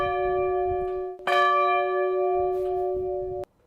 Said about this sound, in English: Thanks to Mr. Cole, we now have a victory bell that we can ring once more.